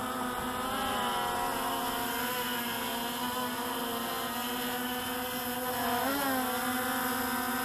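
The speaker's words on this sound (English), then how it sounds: "By the sounds of those props, they're struggling a bit" Small Hubsan X4 Pro quadcopter fitted with heavier 3DR Solo propellers, its motors straining in a steady, loud whining buzz that holds a nearly constant pitch with a brief surge near the end.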